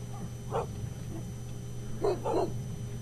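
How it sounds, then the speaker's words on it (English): A dog barks a few times at a distance, single bark then a quick pair, over a steady low electrical hum. "the dogs are going to start barking again"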